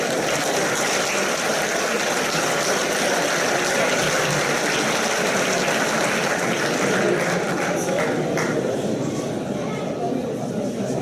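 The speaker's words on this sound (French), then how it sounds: "Merci d'applaudir les champions d'Aquitaine de ce côté." An audience applauds Aquitaine sports champions at a trophy ceremony in Soustons, a dense, sustained roar of clapping lasting throughout, with a voice speaking over it.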